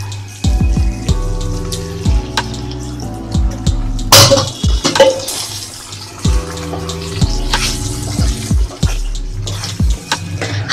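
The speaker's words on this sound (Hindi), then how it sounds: "इसमें दे देंगे थोड़ा सा पानी।" Water is poured into chilli egg gravy made with Schezwan chutney, a splashing, trickling pour heard over steady background music, with no talking.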